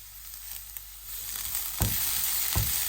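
Mutton sizzles in a pan with curry leaves, a continuous frying hiss that swells louder, with a couple of sharper bursts as the pieces are moved.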